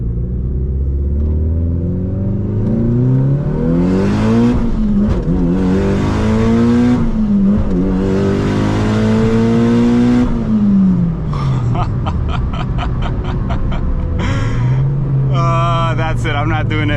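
Mitsubishi Evo 8 with the AC running pulls hard through several gears, its engine note climbing and dropping with each shift, followed by sharp turbo flutter and popping on lift-off, loud from inside the cabin.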